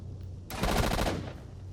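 A short burst of automatic gunfire in the video game STALKER: Shadow of Chernobyl, loud and close, with rapid shots lasting under a second before fading out.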